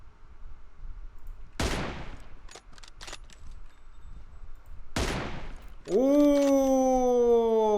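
Two sharp, loud gunshots several seconds apart ring out in PUBG Mobile over a quiet background with a few faint clicks, followed by a bright tonal game chime.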